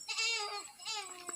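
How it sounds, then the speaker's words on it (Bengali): A goat bleating on a distant hillside, two drawn-out wavering calls heard clearly in a quiet outdoor setting. "আপনারা হয়তো ছাগলের ডাক শুনতে পাচ্ছেন"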